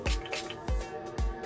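Three quick spritzes of Mario Badescu aloe herb and rose water mist onto a makeup brush, each a short, soft, breathy burst heard close and alone in a quiet room.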